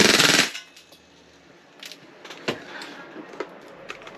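A Tokyo Marui MWS airsoft rifle running on Vorsk V12 black gas fires in a loud, close burst at the start. Scattered sharp clicks and knocks follow in quieter space.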